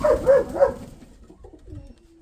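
A Mykolaiv pigeon coos three times in quick, soft, throaty rolls, close by, then fades into quiet background murmur.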